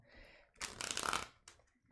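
A deck of tarot cards is shuffled in one brisk burst of riffling and rustling lasting under a second, close and clear, with soft handling noises before and after.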